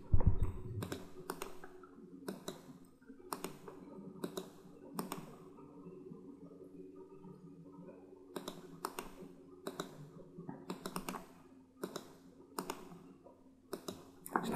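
Computer mouse clicking in Fatek PLC simulation software, a string of crisp single clicks at uneven intervals, close and faint over a low steady hum, without speech.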